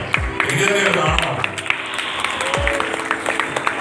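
An audience claps for a third-prize winner at a Christmas prize ceremony, scattered applause running under a voice speaking over a microphone.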